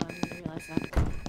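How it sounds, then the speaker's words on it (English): Electronic alarm beeping inside the Among Us video game, The Office-themed version, with repeated tonal bleeps sounding through game audio and voices talking over it. "Someone's alarm is going off."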